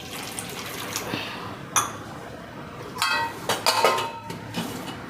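A little water is poured into a spice mix of salt and oil in a bowl for flatbread dough. Short splashy bursts of pouring come with light clinks of a spoon and bowl, close by in a quiet kitchen.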